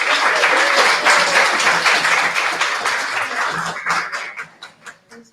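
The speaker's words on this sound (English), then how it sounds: "let's welcome them with a big, warm round of applause" A crowd at a LinkedIn networking talk gives a warm, dense round of applause for the speakers, loud at first and then thinning into scattered individual claps as it fades out.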